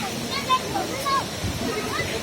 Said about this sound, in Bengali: একটা ঝর্ণা এই যে আপনারা দেখতে পাচ্ছেন,